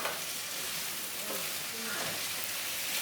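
Squash and onions fry in butter and oil with a steady, dense sizzle and crackle throughout, heard close up, with faint voices underneath.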